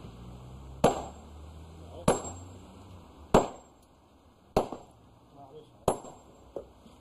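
A hammer strikes stone at a pit bank, five sharp cracking blows at a slow, regular pace, close and loud, each followed by a short ringing decay.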